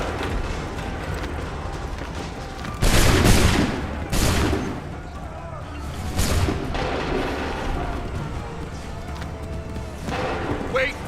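Gunfire from a musket volley in Assassin's Creed III: several loud, sharp bursts near 3 and 6 seconds over a steady din of battle noise, with commands shouted in between.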